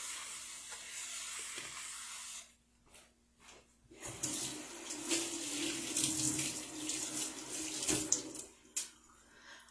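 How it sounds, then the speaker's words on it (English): Raw chicken is rinsed under a cold running kitchen tap, a steady broadband splash of water in a sink that drops off briefly, then returns louder with shifting spatter and clatter. "you're going to rinse off the chicken in cold water, never hot water"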